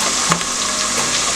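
Steady, close sizzling of dried thyme frying in a pot, with a soft stir or clink near the start.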